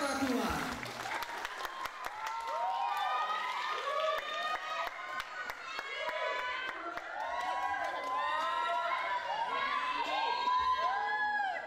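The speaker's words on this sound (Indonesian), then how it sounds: "Beri tepuk tangan yang meriah untuk Rama Putra" An audience at a student stage performance erupts in loud applause and cheering, dense clapping with high shouts and whoops from many people, sustained throughout, with voices calling out over the crowd.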